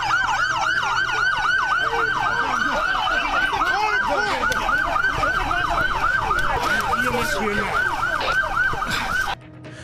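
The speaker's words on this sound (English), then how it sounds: "turn the sirens off." A wailing police emergency siren cycles rapidly and continuously, loud and close, with traffic rumble underneath, cutting off abruptly near the end.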